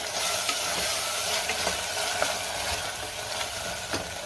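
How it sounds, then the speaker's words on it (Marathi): Tomato pulao in a pan crackles with a continuous close sizzle as tomato, mint leaves and coriander are stirred in, with soft scrapes of the spoon at irregular intervals and no speech. "पुदिन्याची पानं घालायची, थोडी कोथिंबीर घालायची आहे आणि पुन्हा सगळं व्यवस्थित मिक्स करून घ्यायचंय"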